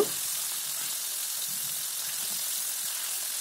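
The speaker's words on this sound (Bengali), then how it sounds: "মাছগুলো আমি একটু ভেজে নিচ্ছি।" Fish fries in a pan with a continuous, even hiss of hot oil, close and steady with no talk.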